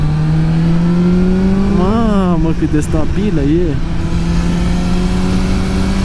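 A Kawasaki Ninja ZX10R sportbike engine drones loud and close at a steady pitch, briefly wavers as it shifts into third gear, then climbs and settles again, with a rider talking over it.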